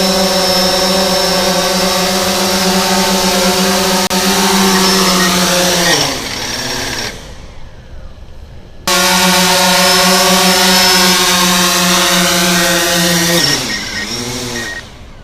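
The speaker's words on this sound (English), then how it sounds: "when you land with the original propellers for the Phantom 4" A DJI Phantom 4 drone fitted with its original propellers whines loudly and steadily, its rotor pitch sweeping down as it lands and cuts out, then spinning up again and winding down a second time.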